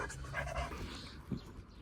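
A dog pants close by in rhythmic, breathy puffs in a garage where a BMW E36's coilovers and steering tie rods are being fitted, alongside a few soft thumps.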